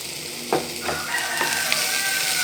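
A spoon stirs okra and egg poriyal in a hot pan, giving a few scraping strokes over a steady sizzle with a faint background tone.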